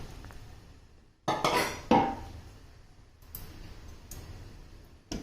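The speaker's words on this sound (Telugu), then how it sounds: "మూత పెట్టేసి కాసేపు ఉడికించుకుంటాను." A metal lid is set onto a cooking pot of chicken curry: a pair of sharp clanking knocks, then quieter scraping and a few lighter clinks, close by and with no talk.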